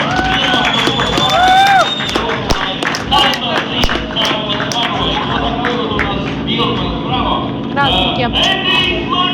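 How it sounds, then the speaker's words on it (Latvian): A crowd at a 2011 drift season-closing event claps and cheers for drift driver Ilmārs Jēkabsons, steady applause mixed with chatter and amplified talk over a loud outdoor din. "Aplausi Ilmāram Jēkabsonam."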